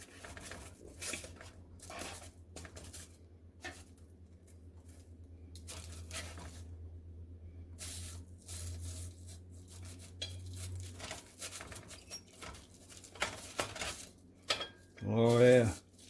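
A cooked meatball or jumbo frank being sliced open with utensils on a plate, with scattered clinks and soft squishy cuts, a low hum underneath and a louder burst near the end.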